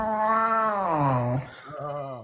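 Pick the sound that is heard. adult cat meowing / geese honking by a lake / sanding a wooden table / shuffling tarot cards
adult cat meowing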